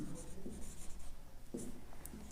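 Chalk or a marker scratches across a board during a Class 10 maths lesson, in short repeated strokes and taps at a quiet level with pauses between them.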